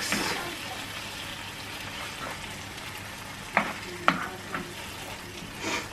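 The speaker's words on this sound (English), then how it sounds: "Just give that a little mix." Balti chicken sizzles quietly in a pan while it is stirred. A low, steady frying hiss runs throughout, broken by a few sharp scrapes and clinks of the utensil against the pan.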